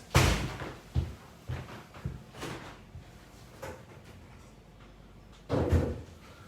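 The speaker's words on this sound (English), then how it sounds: "Just prop the door open, found Michael keeps shutting it." Home kitchen door being handled and propped open, giving several sharp knocks and thuds with quieter gaps between, ending in a louder bump nearby.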